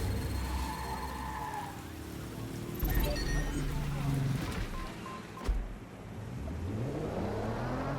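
A car in the video game Watch Dogs Legion pulls away, its engine revving up and shifting pitch as it drives off, with a brief thump midway and traffic-like background noise around it.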